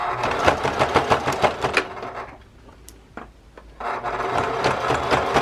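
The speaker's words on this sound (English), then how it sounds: "Now we're going to take it to the sewing machine and we're going to do a top stitch starting from this corner all the way around" A sewing machine top stitching fabric whirs in fast rhythmic bursts, pauses briefly with a couple of clicks, then resumes stitching, close and loud with no talking.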